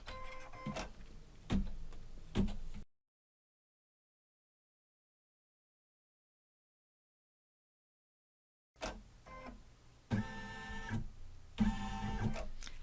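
A computerized long arm quilting machine stitching, heard as close rapid mechanical ticking and whirring in short bursts, broken by a long stretch of complete silence before the rhythmic stitching resumes.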